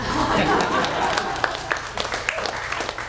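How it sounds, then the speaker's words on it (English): Audience at a poetry reading clapping, a brief burst of applause that thins into scattered individual claps, with a voice speaking over the start. "You can clap."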